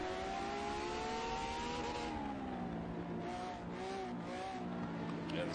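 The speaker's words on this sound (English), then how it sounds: "Ezekiel locking brakes." Hypercar engine wailing and shifting pitch in a racing video game as the brakes lock, with a steady tire squeal layered over the loud continuous motor drone and faint voices.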